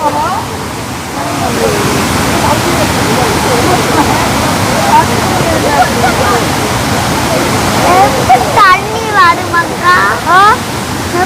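Steady loud rush of falling water fills the scene, with people talking over it and a few excited higher voices near the end.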